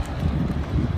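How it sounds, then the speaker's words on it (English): Wind buffets a handheld microphone outdoors, a continuous low rumbling roar with uneven gusty swells, loud and close, with no clear speech. "Whoa, it's windy."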